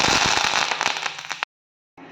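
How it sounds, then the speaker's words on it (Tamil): Dense crackling and popping from mustard seeds spluttering in hot oil, loud and close, cutting off abruptly before a brief quieter return. "கடுகு நல்லா பொரிஞ்சிருச்சு."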